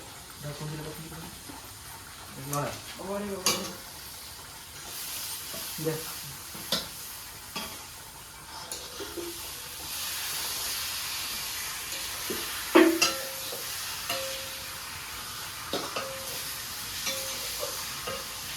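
Meat frying in oil with cooked-down spices and tomato in a pan, a steady sizzle with scraping stirs and occasional clinks, while a voice talks intermittently over it.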